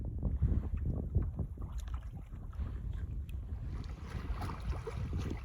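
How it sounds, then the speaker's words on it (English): Strong wind blowing across an open lake in Algonquin Park during a solo canoe trip, a steady low rumbling buffet with gusty microphone noise and faint water sounds, loud and continuous with no talking. "So you can hear that wind's pretty good on Wendigo."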